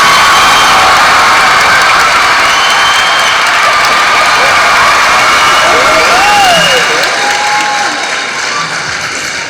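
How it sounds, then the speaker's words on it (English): Audience at a university performance applauds and cheers for an introduced guest, a loud, steady wash of clapping and crowd noise that fades slightly near the end, with a few whoops rising above it. "can I have a round of applause for Mr."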